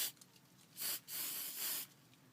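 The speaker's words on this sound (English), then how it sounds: "I'm just going to spray it a little bit and see how that works." Short bursts of hissing spray from an aerosol can of tack glue, two or three quick squirts, soft and close in a quiet room.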